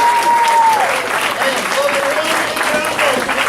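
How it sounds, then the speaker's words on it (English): Loud, sustained audience applause at a martial arts school graduation ceremony, a dense wash of clapping with a voice calling out over it partway through. "Give them another round of applause."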